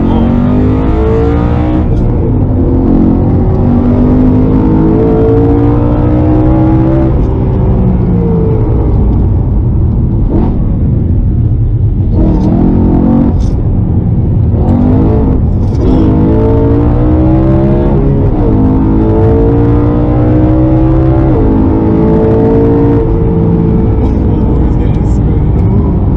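A BMW M3 engine revs hard again and again, loud and close, with rising and falling pitch sweeps, while excited voices talk and exclaim over it.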